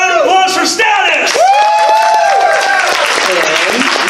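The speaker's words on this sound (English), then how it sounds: "One more round of applause for Status!" A loud crowd applauding, with whoops and cheering voices rising over the steady clapping throughout.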